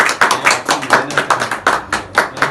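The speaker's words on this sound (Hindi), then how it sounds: "तालियां कम हो गई।" Rhythmic clapping from an audience at a birthday celebration for a Pakistani film director: steady, fairly close bursts of hand claps repeating in an even beat, without talk.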